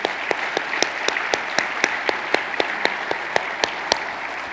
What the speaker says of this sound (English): So let's give all of our special guests a hand.